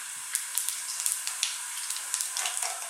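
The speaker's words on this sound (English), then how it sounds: "We're going to start off by dropping in some cumin seeds" Cumin seeds sizzle in hot sunflower oil in a pan, a steady close hiss dotted with small pops and crackles throughout.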